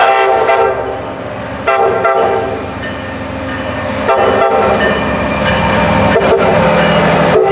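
A Keolis MBTA commuter train at Readville, its horn sounding in short bursts amid loud continuous rail rumble, the engineer tapping out the shave-and-a-haircut rhythm, close and strong throughout.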